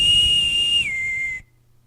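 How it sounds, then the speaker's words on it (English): A boatswain's whistle on a ship deck gives one shrill, sustained piping note that drops to a lower pitch partway and then cuts off sharply, loud and close with no voices. "The sound of the boatswain whistle could be heard screeching across the deck."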